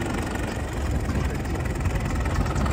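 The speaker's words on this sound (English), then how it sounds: "When your tractor doesn't come with hydraulics, you just put a 12-volt hydraulic pump on it." A 12-volt hydraulic pump running on a Caterpillar tractor at a vintage farm show, a steady, close mechanical drone that holds level throughout, with no talking.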